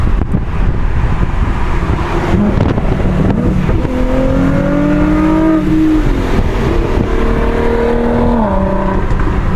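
A 4GT car runs flat out on the autobahn, its engine droning and rising in pitch through the gears under steady, loud wind and road roar, heard from inside the cabin.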